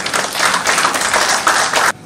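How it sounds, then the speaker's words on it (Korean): Loud, dense applause from the audience at a certificate presentation ceremony marking the UNESCO Memory of the World listing of the April 19 Revolution records, sustained and close before cutting off sharply. "여러분 뜨거운 박수로 모시겠습니다"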